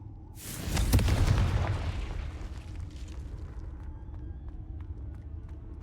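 The Confringo fire spell from Hogwarts Legacy detonates in one loud, close boom. Its sharp burst decays over a couple of seconds into a low rumbling tail with faint game ambience.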